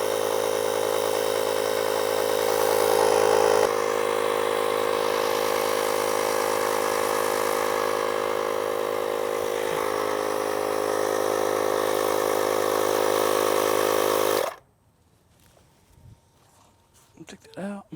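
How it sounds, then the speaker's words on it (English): An electric pump inflating bike tires on a standard valve, running as a steady loud mechanical drone for about fourteen seconds before cutting off abruptly into near silence. "I've got an electric pump, but you can use any standard pump."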